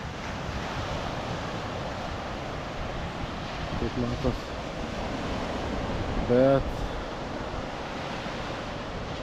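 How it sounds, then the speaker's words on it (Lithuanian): Small waves breaking on a lakeside or seashore beach in autumn in Latvia, a steady broad wash with gusty wind noise on the microphone, continuous and close, with someone talking briefly over it. "Bangos nedidelės."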